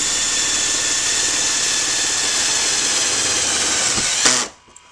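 A power drill drives screws into a garage door slide lock, a loud continuous motor whine that holds steady for about four seconds, then stops abruptly as the clutch engages.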